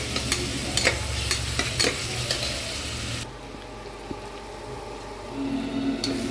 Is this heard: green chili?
yes